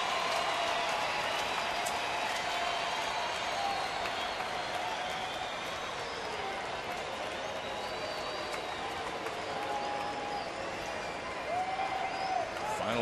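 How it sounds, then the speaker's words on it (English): A large baseball stadium crowd at a Houston Astros home game against San Diego cheers and claps in a steady, dense roar that fills the whole stretch, with scattered whistles rising above it. "And this crowd also making itself known."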